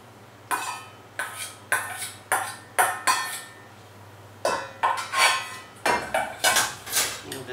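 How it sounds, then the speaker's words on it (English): Onions, fresh garlic and black olives being tossed together in a salad bowl, giving a series of sharp clinks and scrapes of utensils against the bowl in two bursts, close and fairly loud, with no talking. "I'm just going to mix everything up."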